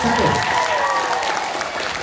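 A crowd claps in a steady burst of applause at a school student council election debate, with voices mixed in underneath.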